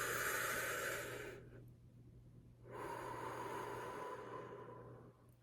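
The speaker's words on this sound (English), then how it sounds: "take a deep breath" A slow, deep breath drawn in and then let out, the inhale and exhale each lasting over a second with a short quiet pause between them, close and fairly soft over a steady low hum.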